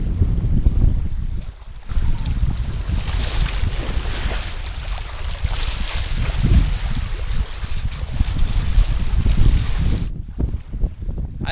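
Wind roars across a sailboat at sea in 12 to 13 knots gusting to 18, a loud, steady rush with buffeting on the microphone and water sloshing, easing briefly near the end.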